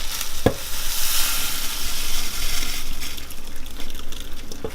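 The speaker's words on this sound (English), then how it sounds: "So I'm just going to pour it in my sink." Hot liquid pours and splashes steadily into a sink, a hissing, gushing wash of water with a brief clatter near the start, close by.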